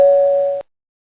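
A single bell-like electronic tone rings steadily for about half a second, then cuts off abruptly into silence.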